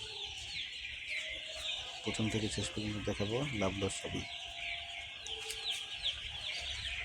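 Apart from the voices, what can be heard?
broiler chickens clucking on poultry farm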